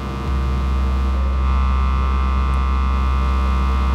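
A Pittsburgh Modular Microvolt 3900 synthesizer plays a harmonic sine wave, a steady, loud, sustained tone carrying a low fundamental and stacked overtones, with no change in rhythm and no voice.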